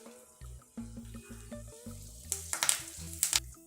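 Curry leaves hit hot oil with popping mustard seeds and dried red chillies while tempering for oats upma, giving a few sharp sizzling bursts partway through over steady tonal background sounds.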